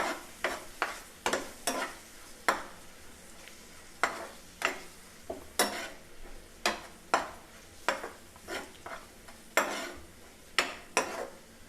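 Ladle stirring paste into a cooking curry of cowpeas, with repeated scraping and knocking strokes against the pot in an uneven rhythm over a faint sizzle, close and with no voices.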